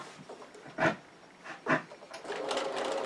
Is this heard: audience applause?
no